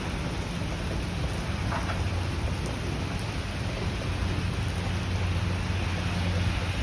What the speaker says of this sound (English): The rain just gets even heavier.